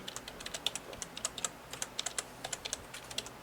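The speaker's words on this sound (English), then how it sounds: "I'm typing it into chat." Computer keyboard typing into an online chat, a steady run of quick light keystrokes with short pauses, close and moderately quiet, no voices.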